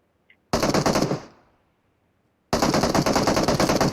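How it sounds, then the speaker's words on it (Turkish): AK rifle fire in PUBG Mobile: two loud, close full-auto bursts, the first about a second long with a fading echo tail, then a pause and a second sustained burst, with no voices. "AK ile sıktı herhalde"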